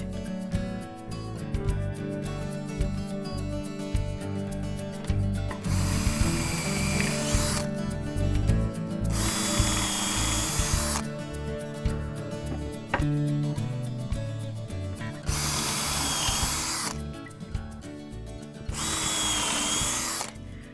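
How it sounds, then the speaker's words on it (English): A power drill bores pilot holes in wood for a forest planter box, with four loud whirring bursts separated by quieter clicking and ratcheting mechanical sounds, close up and without speech. "Pilot holes have been drilled"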